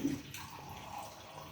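Water poured into a pan for Tulu-style fenugreek rice porridge, a steady close splashing and trickling stream lasting about a second and a half, with no talk.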